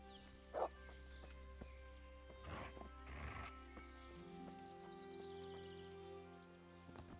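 Dog in the medieval game Kingdom Come: Deliverance, with a few short barks over a steady low ambient hum and game sounds, plus a horse whinny and a faint voice in the background.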